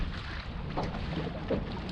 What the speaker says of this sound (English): It's actually too windy to fish, really. I mean, it's blowing.